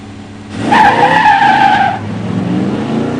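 A 1971 Plymouth Duster 340 four-speed and a 1970 Pontiac GTO Judge Ram Air IV automatic launch at a drag strip, tires squealing loudly for over a second before engines roar on down the track.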